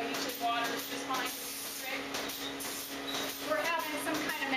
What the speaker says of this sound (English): just going to spray them off here